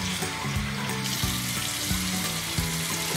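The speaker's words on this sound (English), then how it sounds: "I use a cup to gently pour water over her back" Water poured from a cup over a hairless guinea pig standing in a sink: a steady, continuous splashing wash that stays at one level throughout, with no voices.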